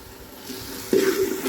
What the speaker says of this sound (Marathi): मिक्स करून भाजूया सगळं चांगलं